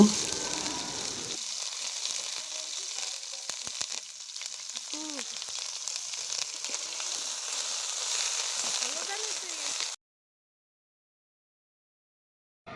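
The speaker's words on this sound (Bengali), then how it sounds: "সব মশলাগুলোকে খুব ভালোভাবে ভুনে নেব" Ground spice pastes of garlic, onion and green chilli fry in a pan for a Bengali eggplant and mutton dish, giving a steady close sizzle with light stirring scrapes. The sizzle cuts off abruptly to silence near the end.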